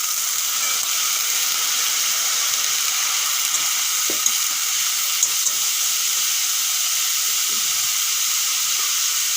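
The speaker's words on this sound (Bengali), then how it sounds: "এখন কেটে ধুয়ে রাখা সিমগুলো দিয়ে দেবো" Washed, cut flat beans (shim) sizzle steadily in a hot pan with oil, a continuous bright hiss with a few faint stirring knocks, no voices.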